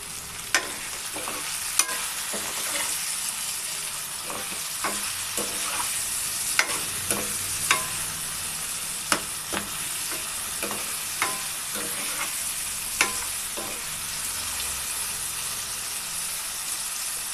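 Garlic fries in a pan with a steady, loud sizzle, while a spoon scrapes and taps against the pan at irregular intervals as the garlic is stirred.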